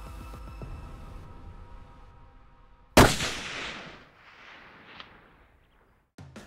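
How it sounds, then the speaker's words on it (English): A rifle shot on a blue wildebeest hunt in South Africa: a single loud, sharp crack bursts out of a quiet outdoor background and rolls away in a long, fading echo. "that gun went off"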